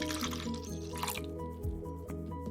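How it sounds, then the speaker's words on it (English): Milk poured into a cooking pot while making rose-syrup milk jelly, a steady liquid splash and trickle with dripping, close and fairly loud, no talking. "Add 3 cups of milk"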